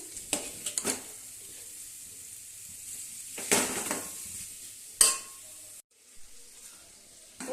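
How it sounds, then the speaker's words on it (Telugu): Mutton fries in oil in a pan with a soft, steady sizzle, broken by several louder clinks and scrapes of stirring against the pan. "మటన్లో ఉన్న నీరు పోయింది చూడండి ఎలా మగ్గుతుందో బాగా ఫ్రై అవుతుంది చూడండి"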